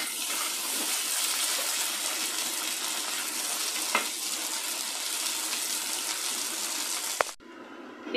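Potatoes frying in oil for mutton dum biryani hiss with a steady, even sizzle that holds for most of the stretch before cutting off sharply near the end.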